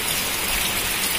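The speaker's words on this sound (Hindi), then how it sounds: "बहुत तेज बारिश हो रही है, ऐसा नहीं कि थोड़ी बहुत बारिश हो रही है।" Heavy rain pours onto a terrace garden in a dense, steady hiss of close drops that fills the short moment evenly, with no voices.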